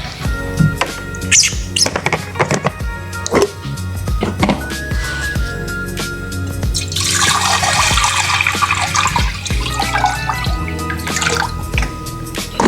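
Water splashes and trickles into a snake's water bowl nearby, with scattered clicks and knocks around it and a steadier pouring stretch midway.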